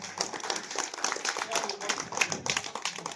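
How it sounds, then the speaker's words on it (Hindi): Audience applause welcoming a guest at a primary school annual function, steady dense clapping throughout, moderately loud with a busy crowd texture. "पिलाने जोरदार करताली तो स्वागत करो।"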